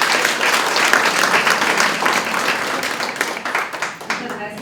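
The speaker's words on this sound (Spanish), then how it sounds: "Les pido un fuerte aplauso para ella," A seminar audience at a course on gender-based political violence applauds a speaker with loud, sustained clapping that swells early and then slowly thins and fades toward the end.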